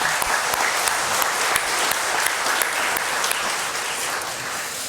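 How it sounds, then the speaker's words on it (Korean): A church congregation at a Sunday morning service applauds its children in encouragement, a steady, even wash of many hands clapping throughout with no talk. "우리 자녀들 위해서 격려의 박수 한번 하겠습니다"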